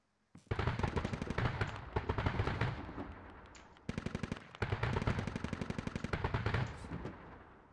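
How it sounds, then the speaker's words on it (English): A cannon in a video game fires in two long rapid bursts of heavy booming shots, loud and close, with a short pause between them. "This cannon is beefy, Death."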